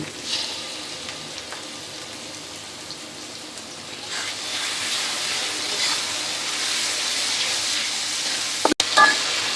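Spice paste and tomato sauce fry steadily in hot oil for a Bengali prawn malai curry, a continuous close sizzle with occasional stirring scrapes and a sharp clatter near the end.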